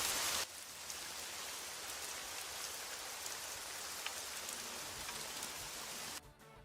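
Steady rain hisses as a dense, even wash of drops, moderately quiet and continuous for several seconds before cutting off abruptly near the end.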